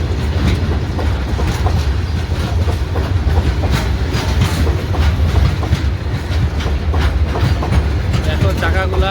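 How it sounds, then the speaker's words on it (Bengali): A freight train rolls past at close range, loud and continuous, with rapid clickety-clack of wheels over rail joints and a deep rumble throughout. "মালগাড়ি, মালগাড়ি যাচ্ছে।"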